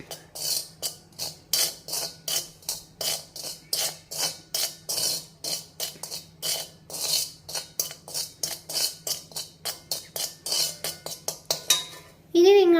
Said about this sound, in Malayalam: നമുക്കിത് നന്നായിട്ട് മിക്സ് ചെയ്തെടുക്കാം